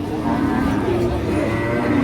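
A large heifer moos at a village cattle market in Mirzapur, Tangail, with one long, deep, loud and close call that fills the whole moment.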